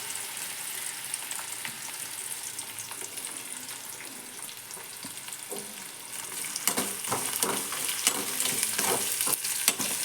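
Onions sizzle in hot oil with cumin, mustard seeds and curry leaves, a steady close crackle with sharper spits and stirring scrapes growing busier toward the end.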